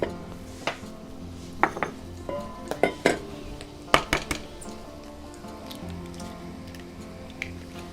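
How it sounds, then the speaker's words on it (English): Egg yolks are separated from the whites in a bowl for carbonara sauce, a run of sharp clinks and taps of shell and utensil against the bowl, clustered near the middle and then sparse, close up against a quiet kitchen background. "We'll get the egg yolks."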